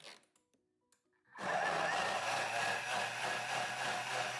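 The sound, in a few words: blender making peach juice smoothie at speed 10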